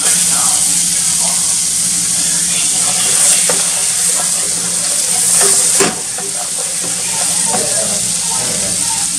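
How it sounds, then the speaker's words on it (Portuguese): Onion sautés in butter for rice, a loud, close, continuous sizzle broken by stirring scrapes and a few sharp clicks, with a brief louder hiss near the middle; a voice speaks over it in places. "para o arroz, eu coloquei manteiga aqui. Eu vou colocar um pouquinho de cebola."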